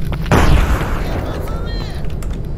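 A grenade blast in the shooter S.T.A.L.K.E.R. Anomaly, a single loud, close boom with a heavy low rumble that decays slowly into a lingering roar over the background noise.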